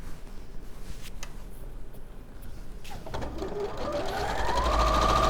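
Sewing machine stitching a seam on a mini hex quilt, its close, steady motor whir building in speed and pitch over the last few seconds, heard alone.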